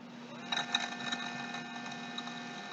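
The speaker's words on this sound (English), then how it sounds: "I'm going to pull the throttle" An ebike motor spins with the throttle pulled while wired to its Hall sensors, giving a steady electric whine with a fixed tone and a faint ticking texture, moderately quiet and close, unchanging throughout.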